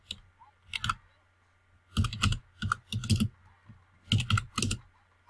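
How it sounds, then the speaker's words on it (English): Clicky keyboard typing close by, bursts of rapid keystrokes separated by short pauses, crisp and fairly loud in an otherwise quiet room. "Now you can actually hear me typing"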